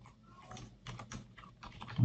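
Typing on a computer keyboard, quiet irregular clusters of key taps close by, ending in a slightly louder thump.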